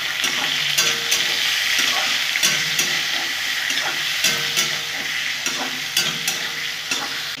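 Salted potatoes fry in a pan with a constant bright sizzle, broken by repeated clinks and scrapes of a utensil stirring them, close and without voices.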